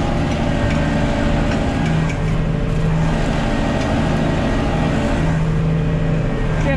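A Massey Ferguson 180 HP tractor ploughs with a Gregoire Besson HeliPlow, its engine droning loud and steady under load, a deep continuous roar with a slight rhythmic throb and no pauses.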